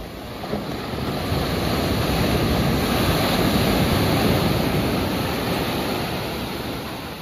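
Sea waves roll continuously during the open-water swim of a triathlon at a marine base in Ternate, Cavite, a loud, steady wash of surf mixed with heavy wind buffeting the microphone, with no voices.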